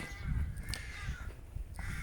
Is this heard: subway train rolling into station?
no